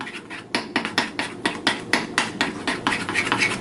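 Black frosting for doughnuts being mixed in a bowl, heard as quick, close, rhythmic scraping and tapping strokes of a utensil against the bowl, repeated steadily without talk.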